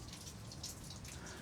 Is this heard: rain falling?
yes